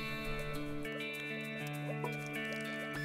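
Sheep bleat on a farm in the apocalypse survival game Judgment, with several short calls over a steady layered game soundtrack of sustained tones.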